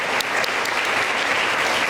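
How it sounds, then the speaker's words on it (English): An audience at a political speakers' event applauds steadily and loudly, a dense, continuous wash of many hands clapping without a break. "another round of applause for our favorite Polish-American commentator"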